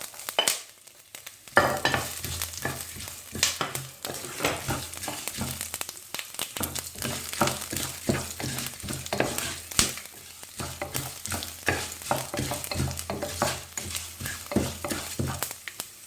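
Ginger frying in hot oil with popping mustard seeds for a leftover idli upma, a steady close sizzle with frequent rhythmic spoon scrapes against the pan throughout.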